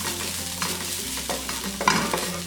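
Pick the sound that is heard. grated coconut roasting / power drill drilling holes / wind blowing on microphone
grated coconut roasting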